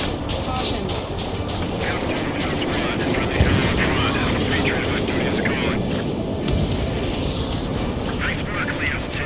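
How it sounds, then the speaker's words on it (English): A steady, loud jet aircraft engine roar from the game Ace Combat 7 drones throughout, with voices talking over the rumble. "Plane starting to rise up."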